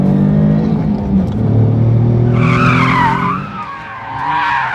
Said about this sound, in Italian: posso farvi ascoltare, nonostante sia turbo, come suona bene questo motore 2009 V6